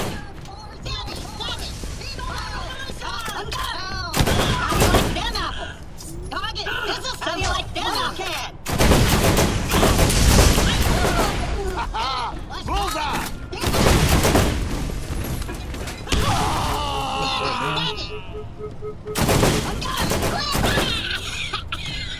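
Gunfire in the game Borderlands, coming in loud, dense bursts of rapid shots separated by quieter stretches, with voices talking over and between the volleys.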